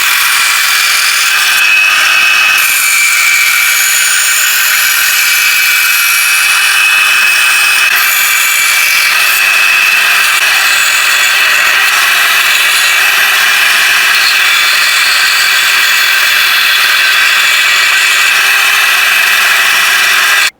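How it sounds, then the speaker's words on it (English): A bandsaw roughs out the shape of a yew wood spoon blank, a loud continuous whining cut with a steady high-pitched tone, close and constant for the whole stretch. "I've used the bandsaw to rough out the shape"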